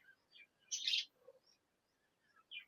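Pet lovebirds kept in a cage give a few faint, scattered high chirps, with one brighter burst of twittering near the start and a short call at the end, set against a quiet room.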